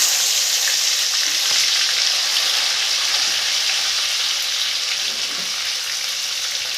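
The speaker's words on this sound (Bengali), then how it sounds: "গোটা মুরগিটা ভেজে নেব" A whole chicken frying in a wok-style pan for a mutton biryani and chicken fry meal makes a loud, steady, close sizzle that holds without pause, with no talk.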